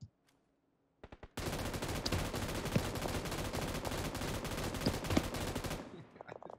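Sustained automatic gunfire in the mobile battle royale game PUBG: New State, a rapid burst of shots after a few single pops, loud and continuous for several seconds before cutting off.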